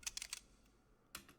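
Short metallic clicks from a redesigned Reinhardt sound effect: a quick burst of three or four sharp ticks, a pause, then two more, crisp and close with no voices.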